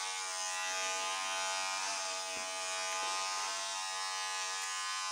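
Electric clippers shave off a head of hair, a loud, steady close-up buzz that holds without break, with slight shifts in pitch as the blades move through the hair.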